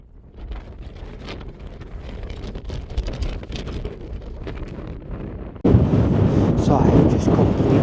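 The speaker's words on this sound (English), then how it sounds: "just listen to that wind." Strong gusts of 45 to 55 mph on the Crib Goch ridge in North Wales buffet the microphone with rough, roaring wind noise that surges suddenly louder near the end.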